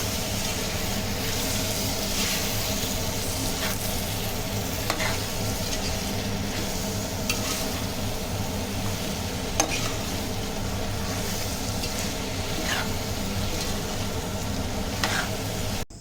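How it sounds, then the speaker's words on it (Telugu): Tomato masala for aloo kurma frying in a pan while being stirred: a loud, steady sizzle with occasional scraping clicks that runs throughout, with no voices. "వేసుకున్న తర్వాత కొంచెం ఇలా నీట్గా కలుపుకోవాలన్నమాట"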